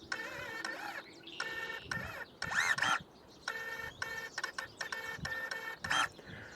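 A Kebtek electric pruner whirs in short motorized bursts as its blade closes under trigger control, about a dozen quick whining pulses of varying length separated by brief pauses, close and fairly quiet.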